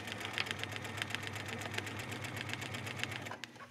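Sewing machine stitching quilted leather, a steady run of rapid needle strokes with a low motor hum, close and continuous until it stops near the end.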